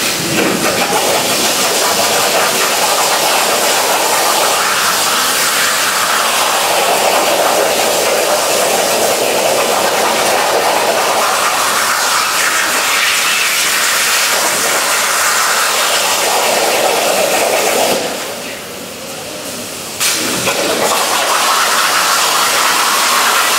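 A metal plasma cutter slices through 10mm steel with a loud, steady roaring hiss that runs for over twenty seconds. The noise dips briefly near the end before resuming at full strength.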